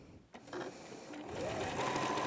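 A sewing machine stitches fabric for a beginner's pouch, a steady close mechanical whir that starts up and rises in speed, running quietly and alone.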